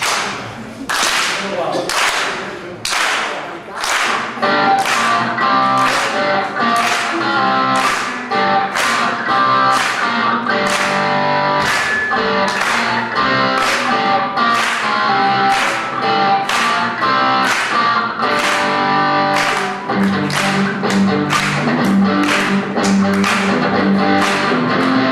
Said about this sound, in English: This sounds much better if you clap your hands.